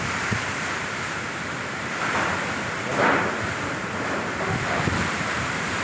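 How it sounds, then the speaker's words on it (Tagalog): Strong typhoon wind roars continuously, buffeting the microphone with gusts swelling and fading, like surf rushing in the distance. "Nalakas ng hangin."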